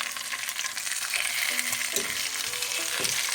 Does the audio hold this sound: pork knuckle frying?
yes